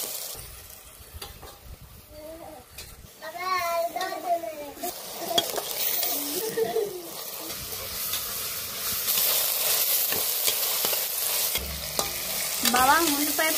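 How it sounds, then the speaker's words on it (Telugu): Onion, green chilli, ginger-garlic paste and curry leaves fry in a pan, a steady close sizzle with repeated scraping stirs and occasional clinks of the spatula against the metal. "అల్లం వెల్లుల్లి పేస్ట్, కరివేపాకు కూడా వేసేసుకొని మొత్తం బాగా వేగేంత వరకు అయితే ఫ్రై చేసేసుకున్నాం"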